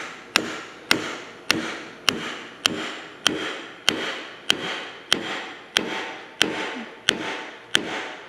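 A motor being tapped into place on a wild-looking saw assembly, heard as about a dozen evenly spaced sharp knocks with short decaying rings, close and steady, with no talk.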